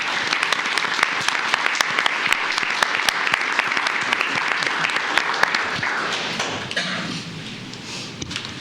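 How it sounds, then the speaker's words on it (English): Audience at a county commissioners court meeting gives a round of applause, many hands clapping steadily in a close room before it tapers off and fades into murmuring. "let's give them a round of applause, please"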